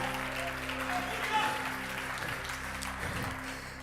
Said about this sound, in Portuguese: Quantos podem aplaudir a Jesus por isso?